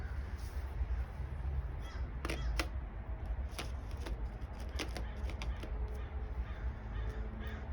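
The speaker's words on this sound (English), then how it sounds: "Can you hear those birds going crazy?" Crows cawing repeatedly in harsh bursts outside, over a steady low background rumble, sounding somewhat distant and faint, with no one speaking.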